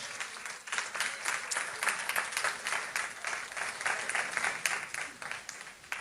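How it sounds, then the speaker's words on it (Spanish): A church congregation applauds during a sermon, a steady, dense wash of many hands clapping together at a fairly soft level, continuing throughout without talk. "Den ese aplauso al Señor, por favor."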